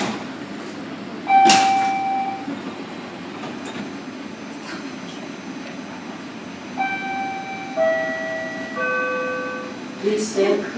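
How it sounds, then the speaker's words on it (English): Toronto Rocket subway train standing at a Sheppard Line station, with a steady rumble, door chime tones and the doors sliding open, while a recorded announcement voice speaks over the sound. "Doors will open on the left."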